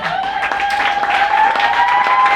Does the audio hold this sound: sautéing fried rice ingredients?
no